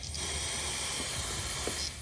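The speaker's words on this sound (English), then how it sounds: "I'm just gonna spray the outside so it won't dry up there." Brake cleaner hisses from an aerosol can onto the outside of an oil filter housing on a 2011 Mini Cooper R, a steady close spray with a few faint mechanical clicks.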